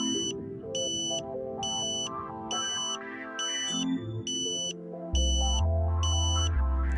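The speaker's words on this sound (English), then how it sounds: "You then hear the locking tone." A satellite antenna alignment meter sends out repeated short, even beeping tones at a steady rhythm, with a low hum and shifting tones underneath, fairly quiet overall.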